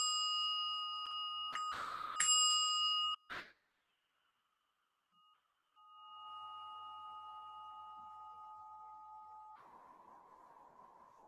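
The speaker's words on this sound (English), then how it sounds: "I will sound the bell 3 times." A meditation bell rings out clearly, struck in quick succession at the start, with bright sustained tones that fade and linger before a soft hum and noise close the quiet session.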